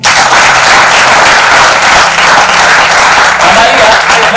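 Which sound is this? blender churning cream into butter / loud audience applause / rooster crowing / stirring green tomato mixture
loud audience applause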